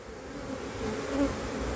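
Honeybees buzz steadily around an open hive as frames of brood are lifted out during a late-season inspection, a close, continuous drone that swells slightly near the end.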